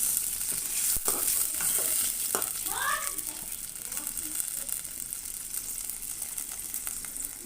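Fish pieces going into hot oil in a pan while cooking dal with fish head, a continuous bright sizzle with a few clattering knocks early on and a faint voice-like squeal, steady and close.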